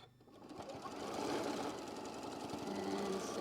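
A sewing machine stitches down a quilt block, spinning up after a short start and then running as a steady, fast mechanical whir at close range.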